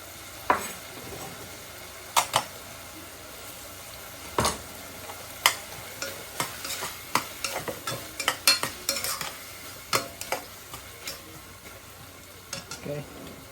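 Garlic frying in a pan while Guyanese fried bake and saltfish are prepared. A faint, low sizzle runs underneath, broken by many sharp clinks and scrapes of a utensil stirring against the pan.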